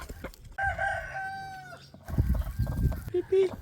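A rooster crows nearby while hens cluck and murmur around it, with a short squawk near the end.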